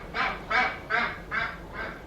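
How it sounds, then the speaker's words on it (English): An ibis flying past outside a window gives a run of about five nasal, goose-like honks roughly every third of a second, muffled and at middle distance over faint room noise. "That was an ibis outside my window flying past. It sounded like a goose."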